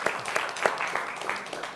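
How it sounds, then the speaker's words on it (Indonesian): Scattered applause from a crowd, fairly faint and quick, with claps rippling irregularly for a moment. "Tepuk tangan"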